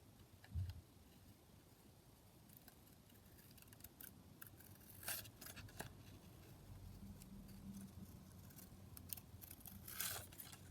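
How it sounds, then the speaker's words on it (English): Scissors snipping a picture out of a magazine page, quiet irregular clicks and paper rustles close by, faint overall. "And now I'll just cut that out."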